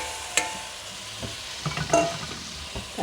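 Bone pieces (haddi guddi) stirred and fried in masala for a salan, with soft sizzling under intermittent scraping clicks of a spoon against the pan.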